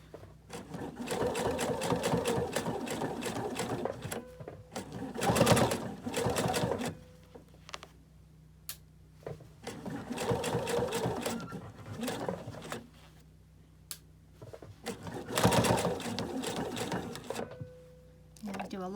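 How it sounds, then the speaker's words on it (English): A sewing machine stitches a hand towel made as a gift to hang on an oven door handle, running in several loud sustained bursts separated by short pauses, with soft talk between runs. "And just hold these flat and sew, and I aim toward this other chalk mark so that it's straight."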